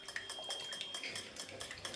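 Egg mixture with ground cardamom for egg surka is beaten by hand in a bowl, giving a steady, quick clatter and scraping of utensil against the dish, fairly faint and continuous.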